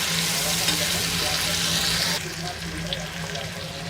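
Tomatoes frying with browned onions in a pan of chicken curry, a steady close sizzle with stirring scrapes; the sizzle drops a little in level about halfway through.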